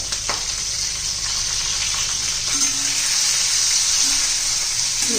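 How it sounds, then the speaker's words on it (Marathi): Green chilies and mustard dal frying in hot oil give a loud, steady, close sizzle with a few soft stirring knocks. "छान असे तेलामध्ये चांगले डाग पडेपर्यंत परतून घ्यायचं"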